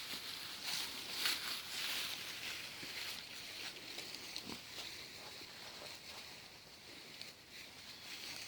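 Pigs on a farm give a few grunting oinks among outdoor background noise, moderately faint, with no talk over them.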